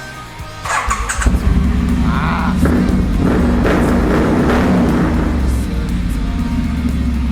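Triumph Street Scrambler motorcycle exhaust firing up and revving loudly up close, a deep rumbling roar that rises and holds before easing slightly toward the end.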